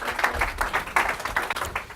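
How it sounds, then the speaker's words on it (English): Audience clapping for a speaker named Ryan at a real estate investing event, steady applause from a modest crowd lasting about two seconds. "So if we can give a round of applause for Ryan, come on up."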